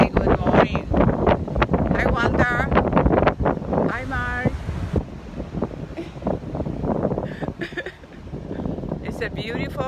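Outdoor wind buffets the microphone steadily, rumbling under people talking throughout.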